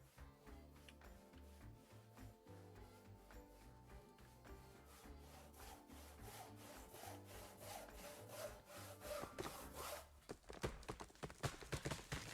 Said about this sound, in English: the sound of somebody using a handsaw